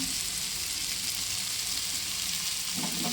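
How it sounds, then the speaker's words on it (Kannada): Tempering sizzling in a pan for hotel-style dal fry, with salt added. Steady, close frying hiss that continues throughout, with a brief stir or clink near the end and no voices. "ಒಗ್ಗರಣೆ ಈ ಥರ ಫ್ರೈ ಆಗ್ತಾ ಇದೆ"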